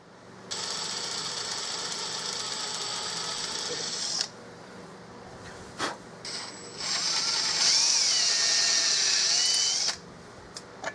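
A small power drill whines at high pitch in sustained runs, stopping briefly and restarting with a brief clunk between passes, enlarging a lug screw hole in a Turkish walnut gunstock.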